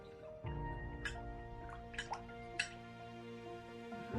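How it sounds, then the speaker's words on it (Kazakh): Dish soap being stirred into water with a spoon, giving soft liquid swishes with a few brief clinks and drips over a steady low background hum, close by, with no talking. "Суды араластыр қасықпен"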